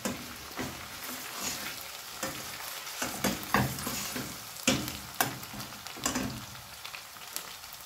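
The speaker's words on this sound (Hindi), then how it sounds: "थोड़ा सा हमने लहसुन अदरक को जो है ना फ्राई कर लेना है" Garlic and ginger fry in a pan for a mutton and potato curry, a soft steady sizzle broken by intermittent scraping stir strokes, close by with no talk.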